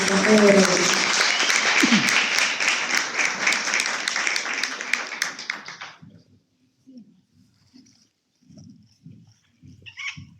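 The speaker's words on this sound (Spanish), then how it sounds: "Un aplauso," Audience applause at a university faculty event in Ecuador, loud dense clapping for about six seconds with some voices mixed in, then cutting off abruptly to near silence broken by faint scattered sounds.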